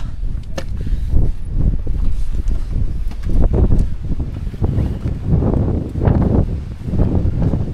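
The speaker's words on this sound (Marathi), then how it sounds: "वाराच वारा." Strong gusting wind rushes and rumbles across the microphone in waves atop Harihar fort in Maharashtra, loud and steady, with only faint traces of voices.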